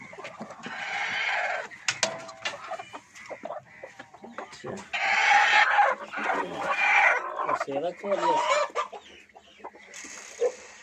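Asil hens on a small home poultry farm cluck loudly and repeatedly in bursts, close by, with someone talking over and between the calls.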